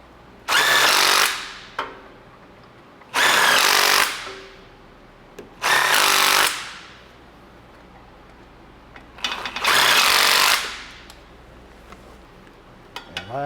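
Power tool tightening bolts on a high-mileage Lexus during mechanical repairs, heard as four loud, close bursts of whirring and rattling, each lasting one to two seconds, separated by quiet pauses.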